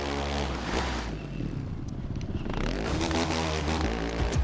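Motorcycle engine revving in the racing video game The Crew 2, a steady loud drone with rising and falling pitch that carries through the whole stretch alone.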